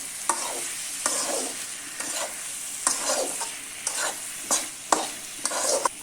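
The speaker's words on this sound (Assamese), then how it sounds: "এতিয়া গোটেইখিনি আকৌ মিক্স কৰি ভাজি ল'ম।" Pigeon meat with salt and turmeric is stirred and fried in a pan: a steady close sizzle broken by about ten rhythmic spoon scrapes, roughly one each second, with no voices.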